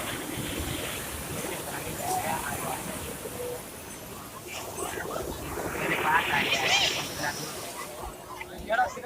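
Sea waves wash ashore at Puri beach, a steady surging hiss rising into a louder breaking swell midway, with people talking nearby.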